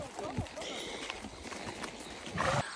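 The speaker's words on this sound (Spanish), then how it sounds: "El caballo de María está cagando" A horse shifts and moves about, giving scattered hoof clops and rustling at close range, with a person talking over the sound.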